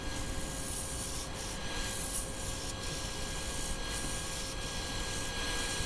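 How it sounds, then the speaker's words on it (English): Spindle roughing gouge cutting a wooden yo-yo blank on a wood lathe: a steady, continuous scraping rasp over the motor's hum, with no talking. "keep using the spindle roughing gouge to do that until I'm down close to where I want to be"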